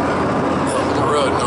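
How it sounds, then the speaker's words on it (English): Road traffic roaring along Interstate 70, a bi-level highway with a runaway vehicle ramp nearby, heard as a brief, steady broadband wash of passing vehicles at close range. "The road noise there."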